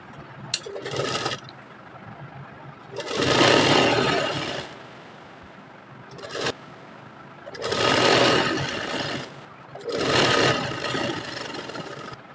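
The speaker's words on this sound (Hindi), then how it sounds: "सबसे पहले इसके नीचे की तरफ इस तरीके से पतला सा फोल्ड करके सिलाई लगाना है।" A sewing machine stitches a thin folded hem on fabric for a baby girl's top. It runs in several loud, close bursts of rapid whirring, with quieter pauses between them.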